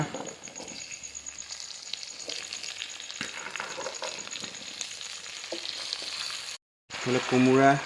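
Duck meat and pumpkin sizzle and fry steadily in a pan in an Assamese-style home kitchen, with occasional stirring scrapes, a brief break near the end, then a louder burst of frying close to the mic.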